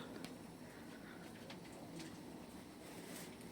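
Faint, soft cooing of pigeons at a live pigeon auction, over a steady background hiss, low and distant, with a few brief sharper sounds.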